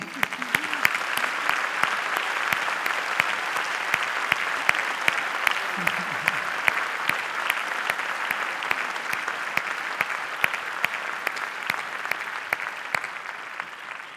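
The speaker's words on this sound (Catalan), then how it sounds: "Els aplaudim, els aplaudim!" Long, even applause from an audience at a volunteers' event in Catalonia, continuous and fairly close for over fourteen seconds, with brief voices surfacing early on.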